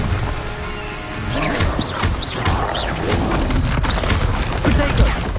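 An Incendio fire spell in the Hogwarts Legacy video game crackles and roars, layered with repeated crashes, whooshes and thuds of combat that swell louder toward the end.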